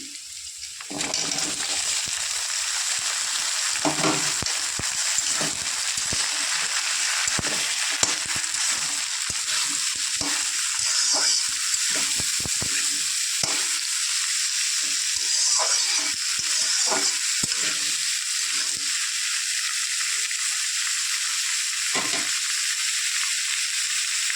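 Mixed winter vegetables frying with onion in a pan for an amudi fish dish, giving a steady, loud sizzle throughout with occasional stirring scrapes and clatters.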